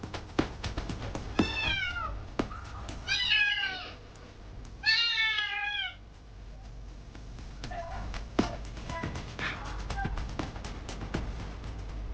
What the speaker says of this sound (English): Inside a room, a kitten twisted its flexible body and slipped through cage bars with impressive agility.